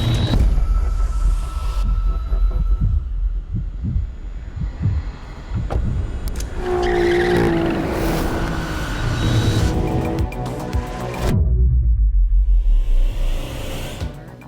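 Alfa Romeo Giulia GTA, a 2021 model on Michelin tyres, driving on a race track: a loud, steady engine roar with rising and falling revs and gear changes, close and continuous throughout.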